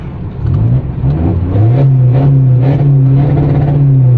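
A remapped 2020 1.9-litre pickup engine with a wastegate can revs up loudly and close, the pitch climbing and settling into a sustained drone as the driver double-clutches through a gear change.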